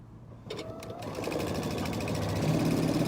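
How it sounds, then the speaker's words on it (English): A sewing machine top stitches a tea towel apron, whirring into a fast, steady, close rhythmic chatter that builds slightly in loudness over a few seconds after some brief handling clicks. "I'm going to top stitch it from this side."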